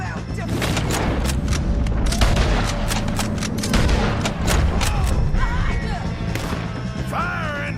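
Dense gunfire and booming shots crowd a chaotic shootout in Red Dead Redemption 2, loud and continuous, with sharp cracks layered over rumbling background noise and brief whistling effects near the end.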